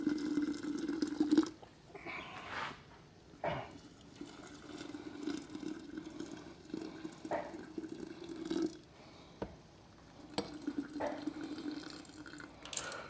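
Hot water poured from a kettle into a vessel for brewing kombucha tea, a steady low liquid gurgle running in stretches with brief breaks and a few knocks, close and moderately quiet.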